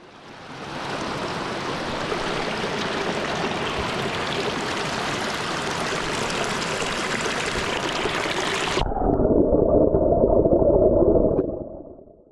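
Water rushes steadily in 18 Mile Creek, a loud, close, continuous flowing hiss that turns abruptly muffled and rumbling near the end before fading out.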